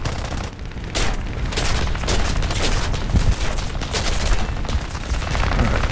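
Bomber gunners fire machine guns in War Thunder air arcade combat, a dense, continuous stream of rapid bursts that stays loud and steady throughout, with no voices.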